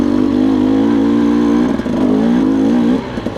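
A dirt bike engine drones loud and steady while riding single and double track on Rampart Range in Colorado, holding a buzzing pitch with a brief dip in the middle and a slight drop near the end; no speech.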